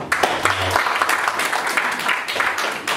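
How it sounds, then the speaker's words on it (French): Applause from a conference audience, a dense patter of many hands clapping at close range for a few seconds, with a faint voice briefly underneath. "Sous vos applaudissements"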